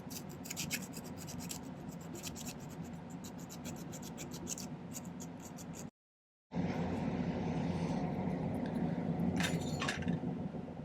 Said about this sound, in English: Take a minute and kind of smooth out any excess solder that's on the inside.